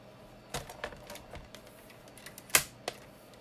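A few sharp snips and clicks as craft paper is trimmed while stamping a botanical project, scattered irregularly with one louder cut near the end, close and otherwise quiet.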